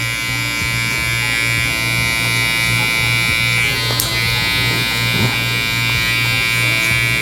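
Electric hair clippers fitted with a half guard blend a taper fade, buzzing loudly and steadily at close range throughout, with no talking over the hum.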